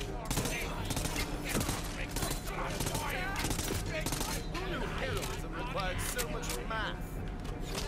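Rapid gunfire from Tiny Tina's Wonderlands, a dense continuous volley of shots with mechanical clatter filling the whole stretch, loud and close, with a voice talking over it.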